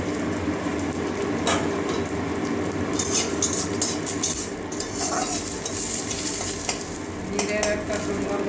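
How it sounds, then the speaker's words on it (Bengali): Whole cumin seeds and a few green chillies sizzle in hot oil for a mung dal with peas and tomato, a continuous loud close hiss with scraping stirring noises throughout. "গোটা জিরে দিয়ে দিচ্ছি কাঁচা লঙ্কা কয়েকটা দিয়ে দিচ্ছি"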